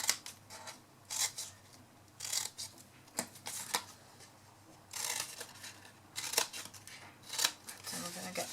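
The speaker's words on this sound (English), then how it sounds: "we're just going to cut our wedges as so" Scissors snip through paper to cut wedges for a diagonal hinged box, several crisp bursts of cutting in irregular clusters with quiet pauses between, close and fairly loud.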